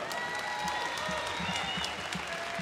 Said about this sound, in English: Ladies and gentlemen, round of applause for both fighters this evening.